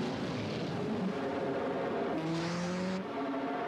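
A steady engine roar with rising tones as a Nissan 300ZX Twin Turbo (Z32) accelerates hard, continuous and fairly loud without any voices.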